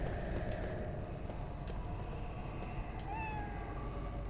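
A cat in the Lost Odyssey video game lets out a faint meow that rises and falls near the end, over a steady, noisy rumble of game ambience.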